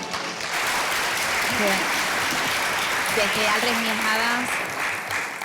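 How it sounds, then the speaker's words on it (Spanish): An audience at a testimonial panel in Miajadas claps in a steady, fairly loud round of applause lasting several seconds, with a voice speaking over the clapping. "Un aplauso, por favor."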